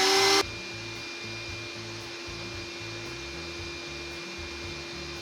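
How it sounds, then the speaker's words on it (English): A shop vacuum starts up in a woodworking shop over a loud thickness planer, a short burst giving way to a steady, sustained motor whine and rushing airflow that holds without pause, with no talking. "I'm going to turn this puppy on, and you'll hear the shop vac come on."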